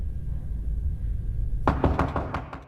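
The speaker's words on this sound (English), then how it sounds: "she is startled by a series of loud banging on her door" Loud banging on an apartment door in a film: after a quiet, low rumbling room tone, a rapid series of hard knocks suddenly starts, about seven heavy thuds in quick succession, close and sharp.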